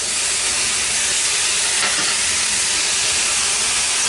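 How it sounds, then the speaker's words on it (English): Cream of soup sizzles in a hot pan while stroganoff meatballs cook, giving off a dense, steady hiss that stays loud and unbroken throughout, with no talking. "See how it's sizzling?"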